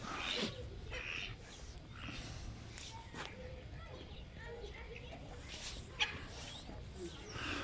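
Fancy-breed, feather-footed chickens cluck and fuss faintly outdoors in a park in Yeşilköy, Istanbul, while a person talks over them, with footsteps and rustling nearby.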